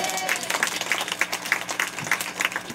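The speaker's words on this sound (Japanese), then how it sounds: "手拍子の準備は良いでしょ、良いでしょうか。" A rock band club audience claps in a steady, even rhythm, with sharp, regular hand claps over a crowd's broad noise and no one speaking.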